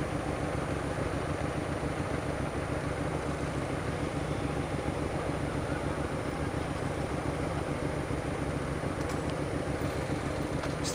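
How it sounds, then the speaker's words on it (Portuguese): A Honda CG motorcycle fitted with a Hornet exhaust tip runs steadily and close by for the whole stretch, its engine a continuous low rumble with no pauses and no talking over it. "O cara pegou uma comete e botou uma ponteira de Hornet"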